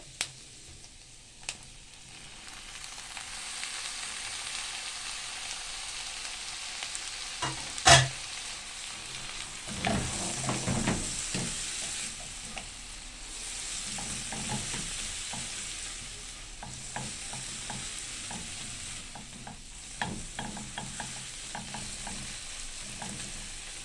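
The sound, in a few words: tomatoes and carrots sizzling and stirred with onions in pan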